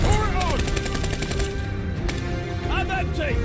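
Gunfire in the video game Call of Duty: Vanguard: rapid, loud automatic shots crackling in bursts over dense game noise, with voices calling out underneath.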